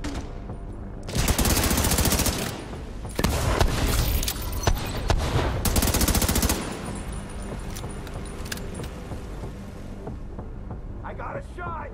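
Gunfire in the video game The Division 2 comes as rapid automatic bursts, loud and close, in several sustained volleys that then give way to quieter shots and game effects, with voices talking faintly underneath.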